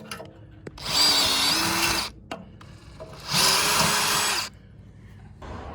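A power drill bores stepped holes with progressively larger bits while a solar arch tower is installed, two loud close whirring bursts of about a second each separated by a pause, with faint clicks and no talking.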